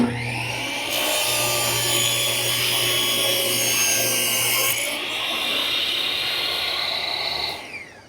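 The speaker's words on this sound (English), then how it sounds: "I'm going to make a cut with the gripper" A table saw rips through wood while the stock is fed with a gripper push block, a loud, steady whining cut holding for about seven seconds before the blade noise begins to fade.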